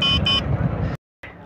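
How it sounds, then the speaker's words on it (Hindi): Horn of a Detel EasyPlus electric scooter, a short electronic beep sounding twice close by, followed by a brief gap and another quick toot. "इसका हॉर्न भी काफ़ी ठीक मिल जाता है आपको"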